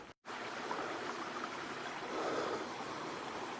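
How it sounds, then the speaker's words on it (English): Stromberg Falls pours out of a cave, a steady soft hiss of rushing water that continues evenly after a brief cut at the start, faint and distant with no voices. "The waterfall here kind of comes from this cave"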